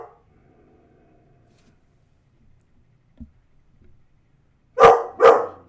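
Pet dog barking at the television indoors, two sharp, fairly loud barks in quick succession near the end after a long quiet stretch with faint background sounds.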